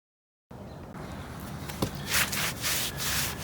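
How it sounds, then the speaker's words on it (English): A sponge rubbing over concrete patio stones to clear trowel marks, giving a steady close scrubbing swish. The swish starts after a short silence and carries on with slight surges in intensity. "use your sponge to clean up some of the things that look like trowel marks"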